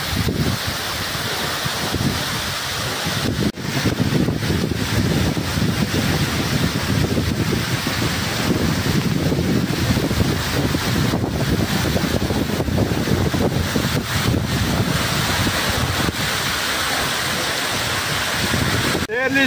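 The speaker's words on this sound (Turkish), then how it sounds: "şelalenin tam altındayım. İşte buradan kafamın üzerinden akıyor." Water roars down steadily at Şarlayan waterfall, heard from right beneath the falling stream as a loud, continuous broadband rush with wind buffeting the microphone.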